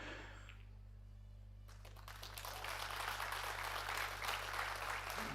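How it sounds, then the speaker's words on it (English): Audience applause at a pool hall during the EPBF Predator European Championships, ladies and seniors, building from quiet to sustained clapping over steady low hum, no talk. "the clapping in the background is for Rainer Wisbicki"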